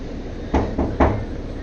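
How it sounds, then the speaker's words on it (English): Three dull knocks on a door aboard the ship Queen Mary, evenly spaced, with a thudding low body, heard alone against a quiet room background. "Even though we were silent, the knocking still continued."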